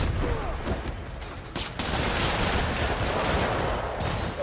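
Rockets being fired in the video game Marvel's Spider-Man, heard as a loud, dense barrage of blasts and roaring explosions that build into a continuous rumbling wash of noise, with no talk.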